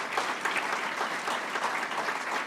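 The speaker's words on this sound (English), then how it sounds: "She deserves another round of applause for having that tenacity" An audience at a governor's event applauds in a thick, continuous round of clapping, even in loudness throughout the short stretch, with no voices over it.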